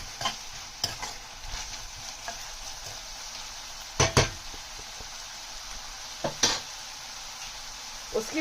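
A spoon stirs Sindhi-style egg bhurji with green chillies in a hot pan, giving a soft sizzle with a few sharp scrapes and knocks against the metal at scattered moments.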